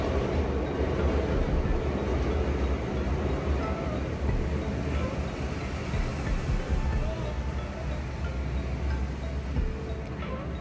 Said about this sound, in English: there's too many train noises.